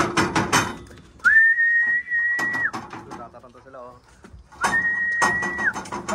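Two long, steady whistle blasts ring out to call pet birds, each held about a second and a half, with talking and a faint engine around them.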